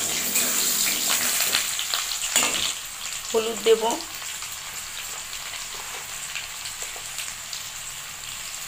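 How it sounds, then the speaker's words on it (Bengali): Potatoes fry in hot oil with turmeric, a steady broadband sizzle that runs the whole time, with stirring scrapes and a brief voiced remark partway through. "আলুগুলোকে একটু ভাজা ভাজা করে নেবো।"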